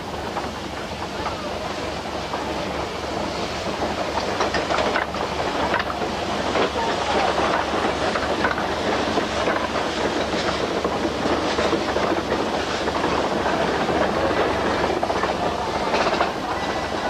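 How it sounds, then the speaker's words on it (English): A Snowdon Mountain Railway train rumbles steadily along the tracks, pulling out of Llanberis station, with a continuous clatter and hiss of wheels on rail, loud and close throughout. "as the train pulls out of Llanberis station"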